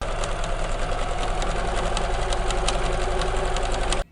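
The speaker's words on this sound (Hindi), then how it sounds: "इसे बीच से इस तरह से फोल्ड करके किनारे किनारे से सिलाई कर लेंगे।" An electric sewing machine runs steadily, stitching along the folded edges of a fabric bag strap, a continuous close mechanical whir with rapid needle clatter that stops abruptly at the end.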